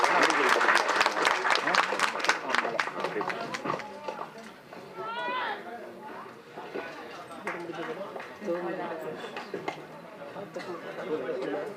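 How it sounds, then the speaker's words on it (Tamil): An audience at the Tamil film Nellai Boys audio and trailer launch breaks into dense, sustained applause and cheering for several seconds, then the clapping thins under crowd chatter and a voice over the loudspeakers. "உங்கள் கரகோஷங்களை சற்று எழுப்புங்கள்."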